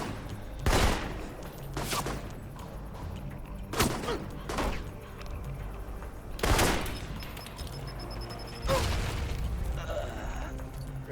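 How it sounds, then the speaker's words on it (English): A grenade exploding in the video game Alpha Protocol, heard as several loud, broad booms spaced a few seconds apart over a low rumbling game background. "That was a big grenade."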